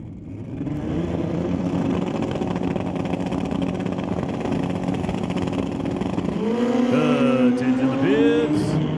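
A Kawasaki drag racing motorcycle at a raceway drag strip holds a steady engine roar, then revs up into a sharply rising launch whine near the end, loud and close.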